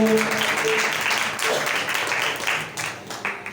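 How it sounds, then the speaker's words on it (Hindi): Church congregation applauding for the Lord during a Hindi-language sermon, a dense wash of clapping with some voices mixed in, steady and fairly loud before thinning toward the end. "जोरदार तालियां खुदावंद के लिए बजाएं"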